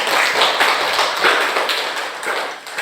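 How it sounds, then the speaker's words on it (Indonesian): Classroom audience applauding a teacher, a steady dense patter of many hands clapping at moderate loudness throughout, with no talk over it. "Tepuk tangan dulu."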